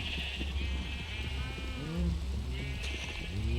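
Minecraft sheep bleating in a rising and falling series of wavering calls, fairly close and clear over a low steady game background hum, with no talk.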